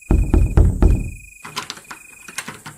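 A wooden hut door in a Filipino horror audio drama, heard as a quick series of loud hollow knocks and rattles followed by a softer creaking, shuffling opening under a thin steady hum.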